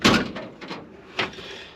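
Close wooden bumps and a sliding rattle as a van storage drawer holding electrical tools is pulled open and pushed shut, a few distinct knocks with no talking.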